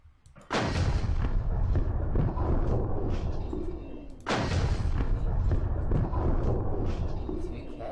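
Two heavy explosions in a PvP combat video game, each a sudden loud boom followed by a long, rumbling roar, spaced a few seconds apart, with a chest being blown up.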